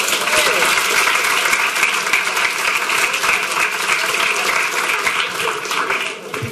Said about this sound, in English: it's totally awesome for us to be applauding our kiddos